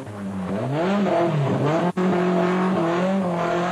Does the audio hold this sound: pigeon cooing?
no